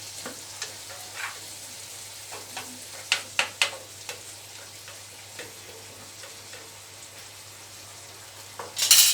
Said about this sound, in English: Mix it well again so that it is well cooked